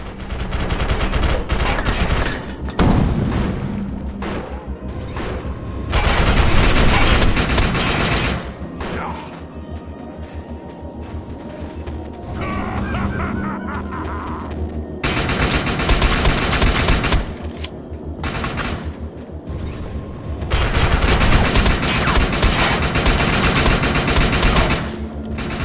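Rapid gunfire from primary and secondary weapons in the Defiance 2050 shooter game, bursts of automatic fire and booms coming in waves with brief lulls, under a mix of game sound effects and a talking voice.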